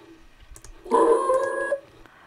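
A cat's meow plays as a sound effect in a Scratch program, a single drawn-out tonal call lasting under a second, clear and close against near silence.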